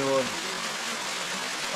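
Waterfall at Cascada Los Helechos in Córdoba, a steady broadband rush of falling water close by, briefly overlapped by a voice at the start.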